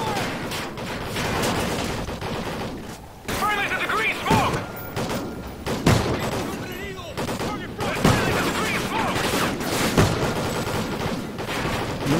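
Gunfire in the Call of Duty: Ghosts video game, with repeated bursts and single shots cracking out at a close, loud level, mixed with game mechanisms and a speaking voice.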